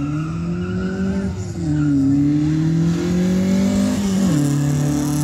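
A race car launches off the line during practice at the Mt. Washington hillclimb, its loud engine note climbing as it revs hard, dropping briefly at a shift, then surging again.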